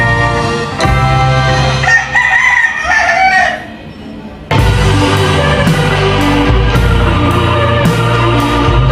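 A rooster crows loudly and close, a long strained call broken by a short pause and then resumed, dense and harsh against a noisy background.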